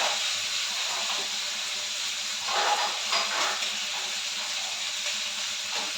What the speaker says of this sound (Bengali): মাছ চিংড়ি মাছ ভাজা হয়ে গেছে